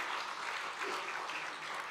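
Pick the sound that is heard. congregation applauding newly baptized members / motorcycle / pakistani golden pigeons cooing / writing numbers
congregation applauding newly baptized members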